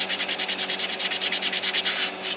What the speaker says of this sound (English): this is a 400 grit sanding sponge here